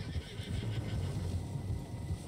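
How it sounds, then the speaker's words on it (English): Several horses in Red Dead Redemption 2 whinny and neigh over low hoof clops, a steady, fairly close chorus of game animal sounds with no talking. "Horses, quite a few of them."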